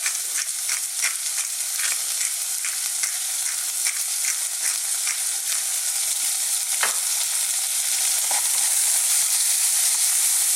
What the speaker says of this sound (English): So we're just going to fry these around just a little bit.